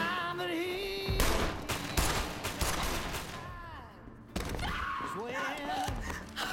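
Gunfire in a police shootout, with bursts of rapid, loud shots and thuds mixed with shouting voices and dramatic music.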